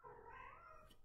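A cat gives a short meow, faint and brief, with no talking around it.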